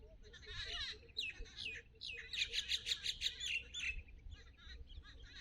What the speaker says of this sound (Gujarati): તમે થોડીક વાર અહીંયા સાંભળો ચકલા અને પક્ષીઓ કઈ રીતે ગીત ગાય છે